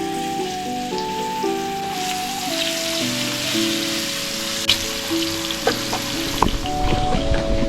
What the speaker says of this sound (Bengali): তেল গরম হচ্ছে এখন আমি ভাজবো